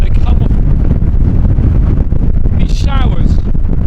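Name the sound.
strong wind on a stormy coast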